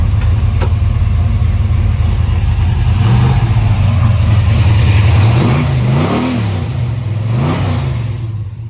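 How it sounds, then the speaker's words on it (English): A 1972 Chevrolet Nova big-block V8 rumbling through dual exhaust, a loud, steady idle that rises into several quick revving blips toward the end, with no talking. "Sounds really good through the dual exhaust."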